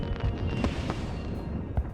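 Fireworks go off over Paris in the Hitman video game, a few distant cracking bursts and pops over a steady rumbling background, fairly faint and without talk.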